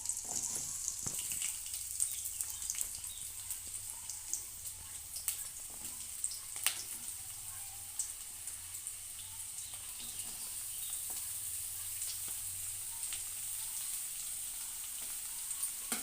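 Onion frying in hot oil for a bitter gourd gojju, a steady high sizzle running the whole time with occasional sharp crackles and stirring clicks, close by and with no talk.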